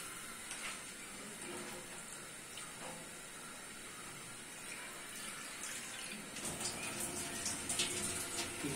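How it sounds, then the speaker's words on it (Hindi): Water is poured into a pan while cooking Maggi masala noodles, a steady faint hiss and trickle that grows slightly louder and splashier toward the end, with no talk. "थोड़ा सा पानी डाल देंगे।"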